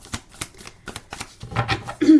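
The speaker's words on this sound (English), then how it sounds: "One more shuffle for Virgo." A deck of tarot cards is shuffled at close range with a quick series of crisp riffling snaps, and a soft voice briefly comes in near the end.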